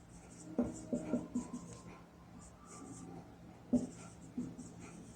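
Chalk or marker writing on a board during a Class 12 maths lesson on matrices, a few short scratchy strokes in bursts with quiet pauses between, close and soft.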